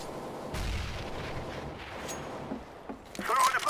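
In CS:GO, a grenade blast and gunfire sound as muffled booms and rumbling low thuds, fairly faint, with a louder crackle building at the end.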